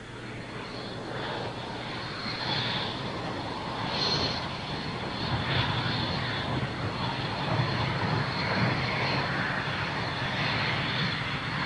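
A multi-role combat jet flies past, a steady broadband roar of engine noise that swells gently and holds throughout, heard at a distance without talk.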